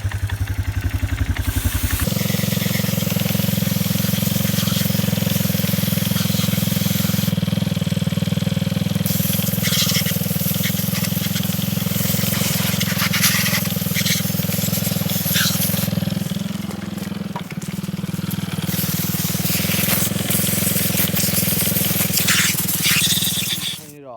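A 1989 Yamaha Moto 4 ATV engine runs steadily at a low idle drone while water is sprayed over it, a constant hiss and splatter layered on top of the engine hum, close and loud throughout.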